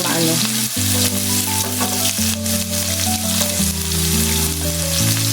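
Onions and garlic frying with chicken in a pan, a steady loud sizzle running throughout with music playing over it and no voices.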